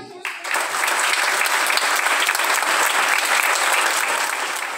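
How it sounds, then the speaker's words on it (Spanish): A crowd at a primary school graduation ceremony bursts into sustained applause, starting abruptly after a short pause and holding a thick, even roar of clapping that fades only slightly toward the end. "brindemos un gran aplauso que llegue hasta el cielo"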